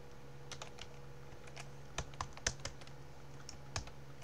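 Typing a password of random characters on a computer keyboard, scattered light clicking keystrokes in small irregular bursts, close and fairly quiet over faint room hum.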